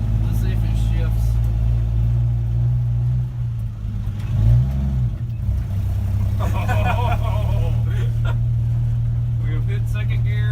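A 1964 Dodge D100 pickup engine runs steadily with a low rumble, revving briefly as the truck shifts into second gear, with mechanical clatter and voices in the background.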